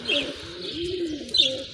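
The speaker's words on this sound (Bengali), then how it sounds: "খুবই সুন্দর একটা কবুতর মাশাল্লাহ" Pigeons in a fancier's collection cooing softly, a couple of short low coos with faint higher chirps, close and unaccompanied by talk.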